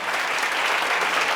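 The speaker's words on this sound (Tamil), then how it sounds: "இத்தனை கைத்தட்டல் கொடுத்த" An audience at a Tamil speech event claps, producing a short burst of dense, even applause with no voices over it.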